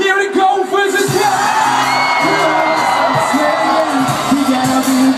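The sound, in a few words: crowd screaming at a freestyle performance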